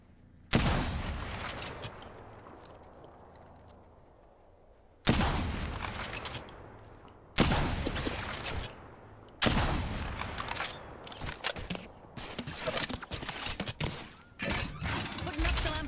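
Bursts of video game gunfire in an online shooter crack out in several loud volleys with short pauses between, rapid automatic fire stacking up toward the end, with faint voice-like sounds under the shots.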